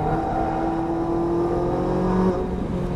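A Ferrari 458 Italia accelerates on a race track at Exotic Racing in Las Vegas. The engine's steady whine climbs slowly in pitch, then drops near the end, heard close and alone with no talk.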